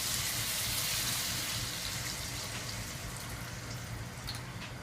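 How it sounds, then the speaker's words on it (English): Cooking stock poured from a cup into a hot pan for a Cajun chicken pasta, a steady close wash of liquid hiss and sizzle running continuously and gradually easing off. "So I'm just going to go ahead and add 1 cup of cooking stock."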